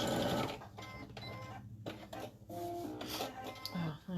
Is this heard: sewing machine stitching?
yes